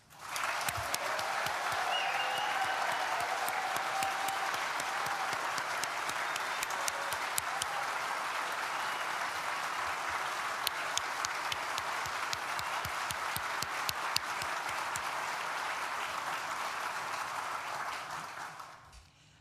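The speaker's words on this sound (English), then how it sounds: "I'd like everybody to give all the students a great big round of applause" An audience at a university graduation ceremony for architecture, design and built-environment students applauds in a dense, steady wave of many hands clapping. It holds strong for nearly twenty seconds, then tapers off at the end.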